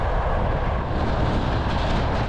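A sleeper train rolls along its rails on the long run from Kazakhstan to Kyrgyzstan, giving a steady, loud rumble with a dense low roar and faint rhythmic wheel clatter, with no voices over it.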